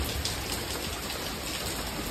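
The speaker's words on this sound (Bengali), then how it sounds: "বৃষ্টি পড়ছে তাই একটু অন্ধকার বন্ধুরা, অসুবিধা হচ্ছে।" Steady rain falling outside a home kitchen, a soft continuous hiss of drops on surfaces throughout, fairly faint and with no talking.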